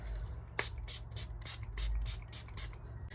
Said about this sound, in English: I'll give it a quick spritz.